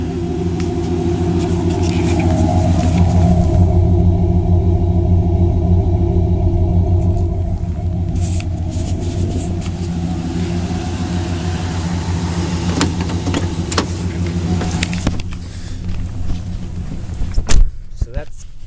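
Chevrolet Caprice engine idling with a steady low rumble after its air cleaner was swapped back to the stock unit, close and continuous, with some clunks and knocks near the end.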